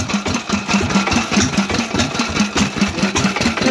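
A vintage Lister stationary engine runs steadily nearby, its rapid, even chugging beat repeating for the whole stretch with no talk over it.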